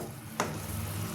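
Lemon pickle syrup simmering in a pan, a soft steady bubbling and sizzle that starts with a brief stir-like burst and continues close and moderately quiet, with no talking.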